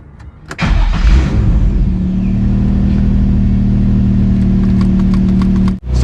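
A Nissan 350Z engine cranks briefly and catches, then settles into a loud, steady idle with a deep drone that runs unbroken for several seconds before a short dip near the end.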